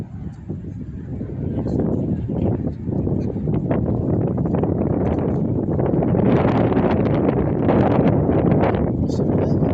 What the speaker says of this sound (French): là, le vent est un petit peu plus fort